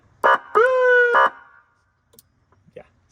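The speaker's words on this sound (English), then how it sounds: "So we have a cop siren" A few short, loud electronic police siren blasts on a Bayliner boat—a quick yelp, a sustained wail, another yelp—sounding close, followed by faint clicks and quiet.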